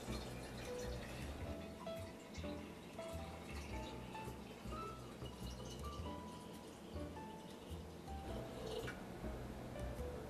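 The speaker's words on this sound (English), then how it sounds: "In goes the water." Water poured into the carafe of a KitchenAid siphon coffee maker, a continuous splashing, gurgling pour with small drips and clinks, close and moderately quiet, no speech.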